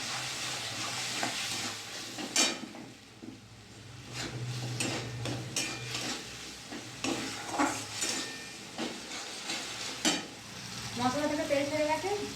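Spices and fish frying in hot oil for a Bengali fish curry with poppy seed, turmeric, Kashmiri chilli powder and salt, stirred with repeated spoon scrapes against the pan over a steady sizzle, close and moderately loud.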